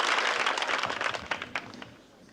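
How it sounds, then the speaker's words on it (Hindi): An audience claps together at a televised community programme, a dense, steady round of applause with a few sharper individual claps standing out as it gradually thins and fades. "जोर से बजाओ ताली।"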